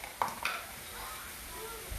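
Bacon sizzles in a pan, a faint, steady frying hiss with a couple of quick clinks of a utensil against the pan.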